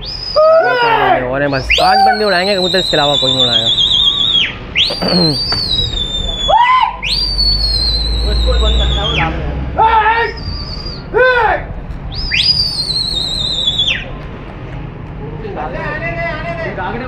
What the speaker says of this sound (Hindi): ये रिजवान भाई सीटियाँ मार रहे हैं यहाँ से